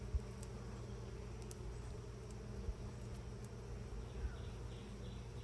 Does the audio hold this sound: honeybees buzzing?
yes